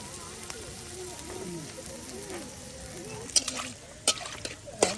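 Spices fry in oil for a hilsa fish curry, a soft sizzle under scattered stirring clatter and a few sharp utensil knocks, with a voice speaking intermittently.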